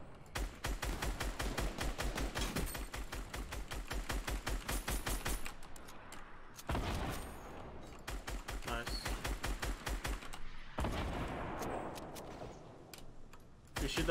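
Rapid bursts of automatic gunfire from a Fortnite Battle Royale match, loud and sustained in two long volleys separated by a short pause, then a further stretch of shots and faint in-game noise.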